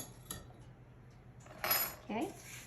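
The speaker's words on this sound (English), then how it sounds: "I always kind of run the spatula around the sides" A spatula scrapes around the sides of a mixing bowl of coconut pound cake batter, making a few brief, faint scrapes and light clinks against the bowl with quiet room tone between.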